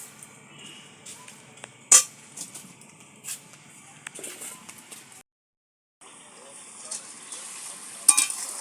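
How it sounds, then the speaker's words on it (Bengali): Pieces of ash gourd boil in sugar syrup in a hot wok while being stirred, giving a soft bubbling sizzle with occasional sharp scrapes and clinks, a brief silent gap, then more bubbling. "দেখুন চিনির রস সমেত ছাঁচি কুমড়োগুলো কেমন ফুটছে।"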